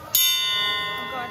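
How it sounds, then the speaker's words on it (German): A school bell at a school on Zanzibar is struck once, giving a bright ringing tone that decays slowly over about a second, loud and close. "darf jetzt die Schulglocke läuten"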